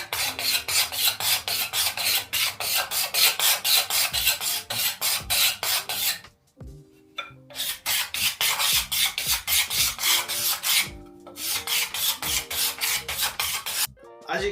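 Card scraper drawn over wood, raising fine shavings, heard as close, steady, rhythmic rasping strokes in quick succession, briefly pausing twice before resuming.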